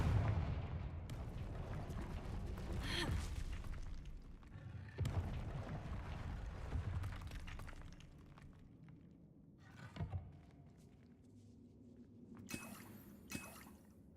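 Confringo explosive spell bursts in the video game Hogwarts Legacy: a booming blast with rumbling decay, a second impact around the middle, then quieter crackles and chimes trailing off, with no talk.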